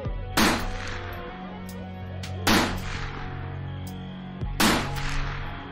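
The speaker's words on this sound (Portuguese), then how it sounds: "Ele então descarregou todo o seu revólver no escuro." A revolver emptied into the dark in a Portuguese horror audio drama: three loud, sharp shots spaced about two seconds apart, each with a ringing tail, over a low rumbling background.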